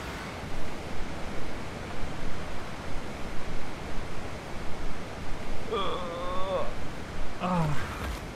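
A waterfall rushes in the Aberration map of the video game Ark Ascended, a constant broadband roar that swells and dips, with two brief tonal calls cutting in near the end.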